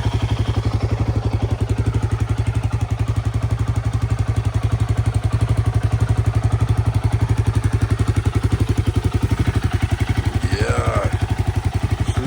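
A Himalayan off-road motorcycle engine idles steadily close by, a rapid even thumping pulse throughout, with a brief clatter near the end.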